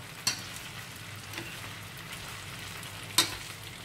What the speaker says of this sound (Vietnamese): đây là mình cho vào chảo dầu xong mình chiên trước đi